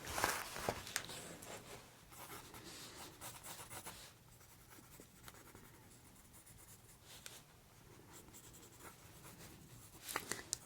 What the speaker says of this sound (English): So just gonna stand right there, and I'm gonna sketch you out.